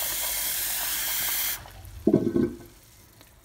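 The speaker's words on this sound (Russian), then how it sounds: "Наливаем водички." Water is poured into a pot of rinsed buckwheat, starting with a loud steady hiss like running tap water that cuts off, followed by a short burst of splashing and sloshing, then quiet.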